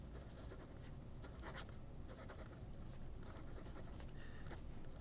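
A D1 fountain pen with a Springer fine nib scratching steadily across paper, close and continuous, with soft irregular strokes and no talking.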